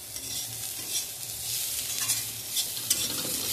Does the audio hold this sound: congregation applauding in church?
no